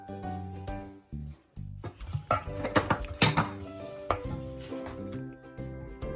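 Bowls knocked and handled while lentils, wheat and rice are mixed together for soaking, with scattered clinks, taps and scraping knocks of kitchenware, fairly close and uneven, no speech.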